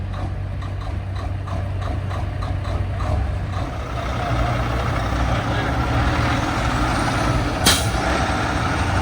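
A Smokey and the Bandit tribute semi truck's engine brake rumbles loudly and close, a deep, rapid, throaty pulsing that holds steady, with a short hiss of air near the end.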